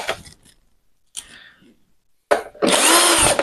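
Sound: cordless drill driving screws

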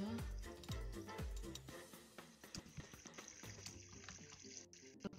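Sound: flowing water in Minecraft video game

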